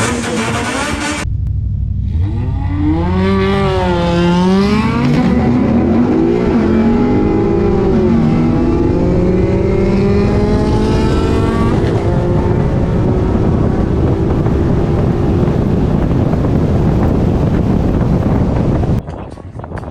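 A Lexus IS F and a Honda Civic on radials drag racing at Sacramento Raceway bracket racing, loud continuous engine roar with rising revving harmonics as the cars accelerate, heavy wind buffeting, a commentator talking over it.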